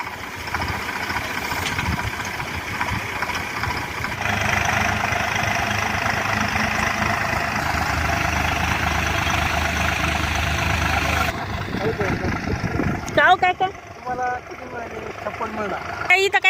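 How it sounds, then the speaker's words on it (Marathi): A tractor engine idles steadily before ploughing a field for summer groundnut, a loud, close, continuous low rumble that drops away near the end as voices come through. "त्याच्यासाठी ट्रॅक्टर बोलवलेला आहे"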